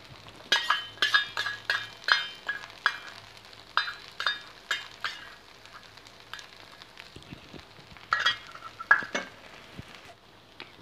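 Ghee poured onto a dosa on a hot griddle, with light sizzling and repeated metallic clinks and scrapes of a spatula in an uneven rhythm, close and moderately loud.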